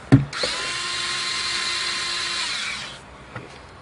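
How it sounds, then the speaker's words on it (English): A power drill runs steadily for about three seconds, backing 7mm screws out of a Jeep Wrangler dash; a close, whining tone with a sharp click at the start and a faint click afterward. "Got a 7mm screw here and a 7mm screw hidden behind this switch. So we're going to take those screws out."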